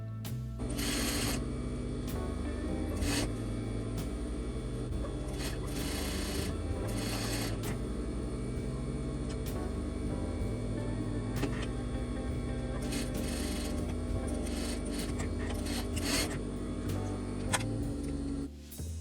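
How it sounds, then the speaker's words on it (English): A sewing machine stitches two lace edges of a bridal veil together, running with a steady close mechanical whir and needle rattle for most of the stretch, with brief pauses and changes in speed. "now I'll sew these 2 lace edges together, and I have threaded my both threads with the same hemming thread"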